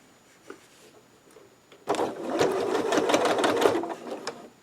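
After a quiet pause with a small handling click, a sewing machine starts up and runs a steady close stitching line along the edge of a zippered pouch or makeup bag.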